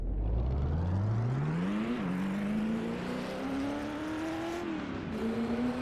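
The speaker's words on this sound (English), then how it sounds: "let's get the revs up a bit and launch." A Ford GT40 race car engine in the game Assetto Corsa revs and accelerates at Le Mans, its pitch climbing steadily with a couple of shift drops, continuous and loud with a synthetic game-like tone.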